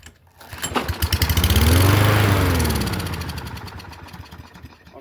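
Toro Recycler 22-inch lawn mower with a Kohler engine running close by, revving up loudly to a peak and then easing back down to a steady, lower rumble.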